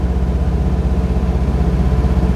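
A restored vintage Audi with a four-speed manual gearbox and rear-wheel drive, heavy at about two tonnes, hums along with a steady low engine drone, loud and constant without any talk.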